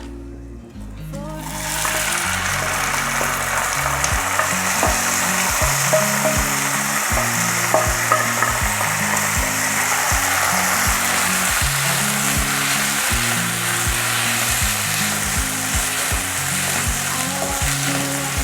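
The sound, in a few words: basmati rice stirred with cumin fried in ghee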